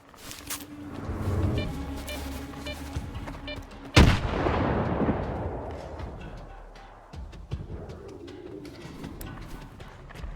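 Grenade blast and gunfire in the shooter game Stalker 2, with a loud sudden explosion midway followed by a decaying rumble, bursts of shots around it, and bird-like ambient calls in the background.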